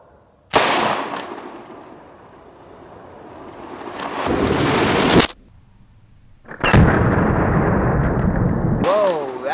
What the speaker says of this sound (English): Charlie's Kaboom target caps.